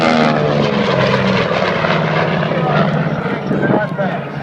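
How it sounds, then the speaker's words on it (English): Aircraft roaring past at the 2013 Hamilton air show, a loud continuous engine drone with propeller hum that holds steady and begins to fade, heard under a voice speaking over a public address. "as the aircraft fly by"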